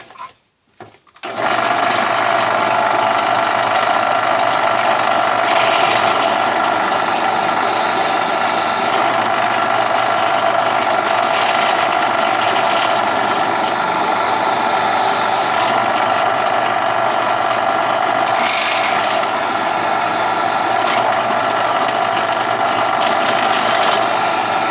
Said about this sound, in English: I am going to go ahead and tap out these tool holes to show you what those look like